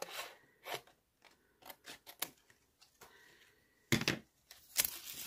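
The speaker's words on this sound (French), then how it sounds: "Ensuite, je me découpe un morceau." Scissors snip through a piece of scrapbooking paper, making several short crisp cuts in an uneven rhythm, close up and with no one talking.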